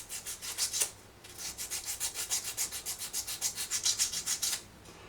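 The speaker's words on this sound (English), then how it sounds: "just use a very, very light sandpaper" Light, fine sandpaper rubbing over the surface of an old Philips tape recorder while it is polished up, a steady train of quick, close scratchy strokes, a brief pause after the first second, then more rhythmic back-and-forth rasping with no talk.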